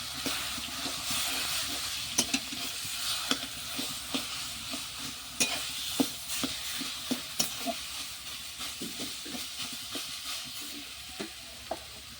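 Wood apple being stirred into hot oil with five-spice seeds, chili and bay leaf for a pickle: a steady sizzle and fry hiss with repeated scraping clicks of the spoon, close up, no talk.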